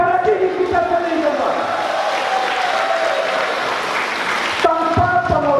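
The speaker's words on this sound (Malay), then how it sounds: "Satu tepukan kepada diri kita sendiri." A crowd applauds together in a hall in Malaysia, a steady wash of clapping mixed with voices that carries on for several seconds before a speaker's voice cuts back in near the end.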